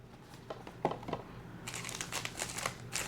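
Foil wrapping of a 2025 Topps Chrome baseball card pack being torn and crinkled open up close, starting with a few sharp rustles and then a denser run of crackling plastic, with no talking.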